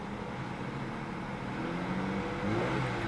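A misfiring car engine at a dealer auction idles and then takes a little throttle, a low, close rumble that swells slightly toward the end without talk.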